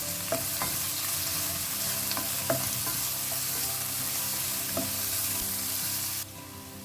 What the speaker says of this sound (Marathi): प्याज को हमें ज़्यादा ब्राउन नहीं करना है, हल्का सा इसे सौटे करना है.